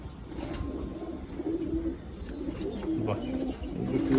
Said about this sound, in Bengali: খতেন শাকদম পায়রা